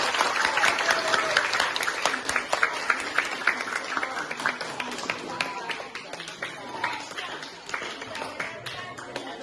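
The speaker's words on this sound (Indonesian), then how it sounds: "Beri tepuk tangan untuk kita semua." Junior high school students applauding together in a classroom, a continuous patter of many hands clapping at a moderate distance, with a voice or two heard faintly under the clapping.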